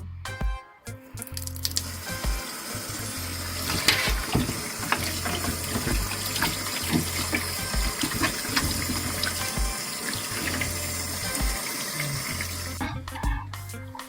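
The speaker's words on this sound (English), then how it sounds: "we're going to rinse with cool water again and get ready for seasoning" Cool tap water runs steadily over raw beef ribs in a sink after a vinegar soak, a continuous near splashing flow with small surges, no talking.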